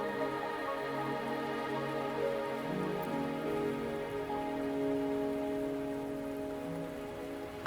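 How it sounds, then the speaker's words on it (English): Rain falls steadily in the video game Wuthering Waves, a soft continuous patter on surfaces beneath sustained musical tones of the game's soundtrack, with no speech. "Are you trapped here by the rain?"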